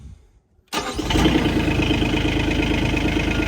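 A medium car-type engine catches abruptly after a brief quiet moment, then settles into a loud, steady high idle with a constant mechanical drone after an alternator belt adjustment.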